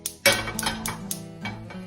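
Pots and pans clatter on a stovetop as a hot frying pan is handled, with a sharp clank followed by several lighter metallic knocks and scrapes, close and fairly loud, no talking.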